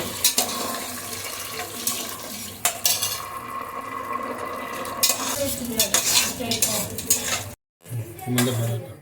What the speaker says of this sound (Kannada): ಬಟಾಣಿನ ಕ್ಲೀನಾಗಿ ಫ್ರೈ ಮಾಡಿಕೊಂಡು